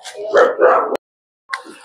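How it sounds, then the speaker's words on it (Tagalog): Dogs in a crowded government housing neighborhood in the Philippines bark in a loud, close burst of several overlapping barks, then fall silent before one shorter bark returns near the end. "At Dahil na-skandalo natin yung mga aso, tinahulan tayo na tinahulan."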